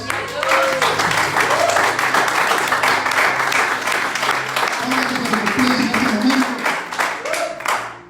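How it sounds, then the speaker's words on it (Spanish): A church congregation claps and applauds loudly and continuously, a dense crackle of many hands, with a voice speaking over it and the noise tapering at the end. "denle un fuerte aplauso a Dios"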